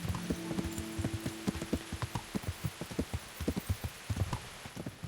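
Hooves of a horse in Kingdom Come: Deliverance clip-clop in a steady trotting rhythm, close and distinct, with a soft hum underneath and no talk.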